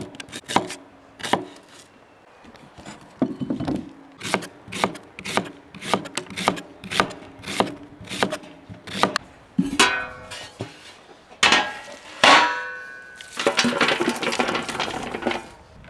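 Knife slicing an onion into half rings on a cutting board in a steady series of sharp, close taps, followed by rustling and scraping near the end, with no talking.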